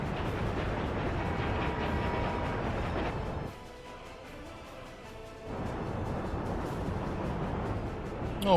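A train of locomotives and wagons in a desert-set video game rumbles and clatters steadily, loud and close, fading to a quieter stretch midway before the rolling noise returns.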